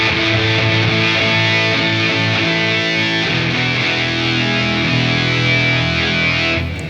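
Electric guitar played through an MXR Poly Blue Octave fuzz pedal, a thick, saturated octave-fuzz tone sustaining loud and steady for several seconds with layered harmonics, no talking.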